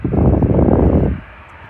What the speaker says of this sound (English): It's just a jet to Boeing 737.